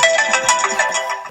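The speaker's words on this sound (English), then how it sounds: "you hear either the ringtone or text tone, you know who it is without actually having to look" An iPhone ringtone on iOS 9 plays a bright, rhythmic melody of quick chiming notes, loud and close, with no speech.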